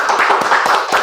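A handful of people clap by hand in quick succession, the claps loud and close, about seven or eight sharp slaps in a brisk uneven rhythm over a second.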